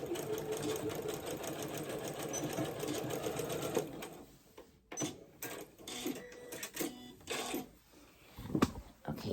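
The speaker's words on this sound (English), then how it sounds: "So let me get these two sewn together." Sewing machine stitching two fabric ends together into bias tape, a steady close whirring run for about four seconds, then short stop-start bursts of stitching with handling noises between them.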